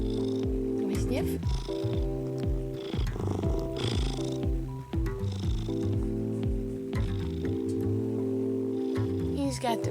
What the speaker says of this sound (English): He's got the best purr.